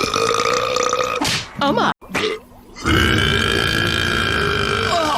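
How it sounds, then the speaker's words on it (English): A woman lets out a loud, drawn-out burp, then speaks briefly, followed by a second grunting belch. "Burps!"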